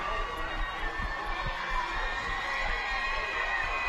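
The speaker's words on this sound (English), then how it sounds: "Crowd trying to get into it here." A high school football stadium crowd at Etowah versus Southside-Gadsden keeps up a steady, distant roar and murmur, with faint scattered thumps beneath it.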